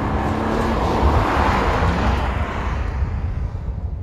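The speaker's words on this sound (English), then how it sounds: "Now when we get into the E46, you'll see what happens when you add a lot of horsepower. It sounds so good." A BMW E46 M3 engine roars loudly and close up under hard driving, a dense rushing exhaust sound that swells briefly and then eases slightly toward the end, with no voices.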